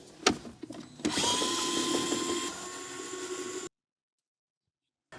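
A power drill spins out 10mm bolts from a Toyota 4Runner center console, a steady close whir of a few seconds after some clicks and handling knocks, then it stops into silence.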